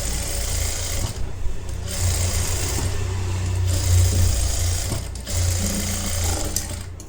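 Sewing machine running a flat stitch on a collar-neck blouse: a steady, fast mechanical whir and needle chatter in bursts, with brief pauses between runs, close and continuous.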